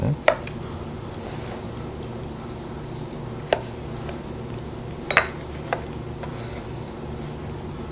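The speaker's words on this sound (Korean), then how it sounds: "한번 썰어 볼게요" A knife slicing aged dairy-cow beef sirloin, heard as a few sparse, sharp clicks and taps against a cutting board over a steady low background hum.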